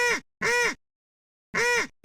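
Three loud, evenly spaced nasal duck quacks from a sound effect ring out close and clear, each about a third of a second long, with a fourth quack cut off at the end.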